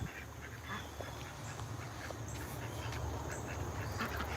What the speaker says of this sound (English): We almost had a duck escape.